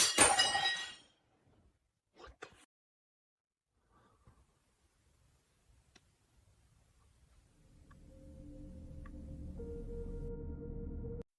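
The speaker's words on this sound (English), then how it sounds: "there's an abrupt sound resembling glass shattering" Glass shattering in a silent room, a sharp crash right at the start that quickly dies away, followed by long near silence with a few faint clicks before a low steady hum rises toward the end.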